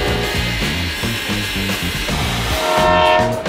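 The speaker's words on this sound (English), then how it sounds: "The steam locomotive we're on today is a 1923 vintage." A 1923 steam locomotive on the Durango to Silverton Narrow Gauge Railroad chugs loudly in a steady rhythmic beat, with a whistle-like tone sounding near the end.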